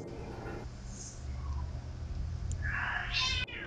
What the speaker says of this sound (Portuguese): E os gatos resolveram quebrar o pau aqui no fundo do quintal.